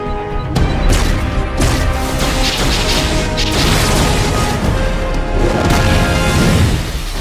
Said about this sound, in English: Luthor, while I call down some artillery.